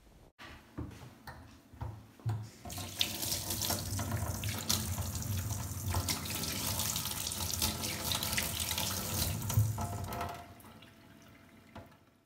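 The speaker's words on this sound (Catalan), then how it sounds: "si ens netegem les mans amb aigua, continuarem tenint greix a les mans" Hands are washed under a running tap, with a few splashes and knocks at first, then a steady loud rush of water into a sink for several seconds, tapering off as the flow stops.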